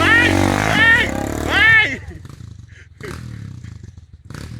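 A trail motorcycle revs hard on a dirt track, its engine rising and falling in loud roaring bursts before it fades to a lower, rougher idle further off.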